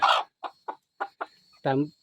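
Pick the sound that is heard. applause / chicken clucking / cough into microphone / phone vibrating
chicken clucking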